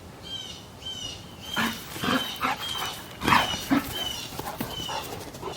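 Several dogs bark repeatedly outdoors in a garden, sharp irregular woofs of varying loudness mixed with birdsong in the background, with no speech.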